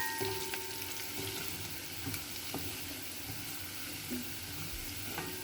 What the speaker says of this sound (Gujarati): લસણ નાખ્યા પછી એને થોડીક વાર સાતળવા દેવાની છું કે લસણનો કલર થોડો ગુલાબી જેવો થઈ જાય